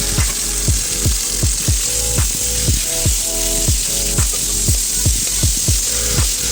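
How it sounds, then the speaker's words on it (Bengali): Marinated chicken chunks, coated with salt, ginger-garlic paste and vinegar, dropped into hot oil for chilli garlic fried rice: a loud, continuous close-up hiss of frying with a steady run of rhythmic clicking pulses throughout. "অন্যদিকে ম্যারিনেট করে রাখা চিকেনগুলি আমি তেলের মধ্যে ছেড়ে দিচ্ছি।"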